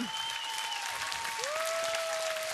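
An audience at a televised Ukrainian singing show applauds a finalist after his performance of a folk song. Dense, loud clapping fills the whole stretch, with sliding tonal sounds from the broadcast running above it.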